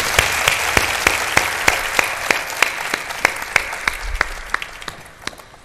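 An audience at a spiritual discourse claps together, a rhythmic run of fairly loud, evenly spaced claps that gradually thins and softens toward the end, with no clear speech over it.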